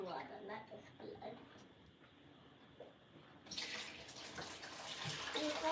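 Running tap water pours into a sink while meat is rinsed for Nigerian egusi soup, a steady splashing stream that swells louder partway through, with people talking over it.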